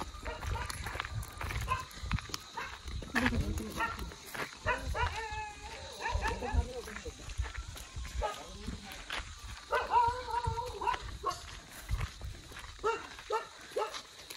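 A dog barks in short bursts and whimpers close by on a morning walk, mixed with footsteps and people talking throughout.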